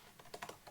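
A short burst of typing on a computer keyboard while writing test code: a few light, quick key clicks, close and quiet, with no talking.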